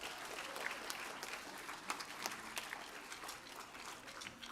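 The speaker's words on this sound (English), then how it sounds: "give a big round of applause for them again" Audience at a Year 5 school music concert clapping steadily, a sustained patter of many hands with a few sharper claps standing out, fairly faint and distant.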